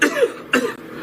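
Two short, sharp coughs, one right after the other, close and clear.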